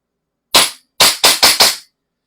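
A KP16 pistol fires five sharp, loud cracks, one shot followed by a half-second pause and then four rapid shots in quick succession, with silence around them.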